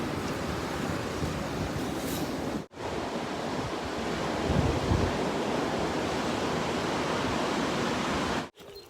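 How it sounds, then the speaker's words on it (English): Surf crashing steadily on a shingle beach beneath cliffs along the English coast near Overstrand, a continuous loud roar of breaking waves with wind buffeting, briefly cut out twice, no talk. "the crashing waves on me left"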